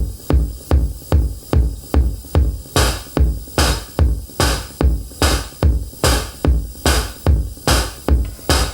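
A 1981 Mattel Synsonics drum machine loops a kick and snare pattern: punchy low thumps alternate with crisp snare cracks in a steady, even rhythm, loud and dry with no other sounds.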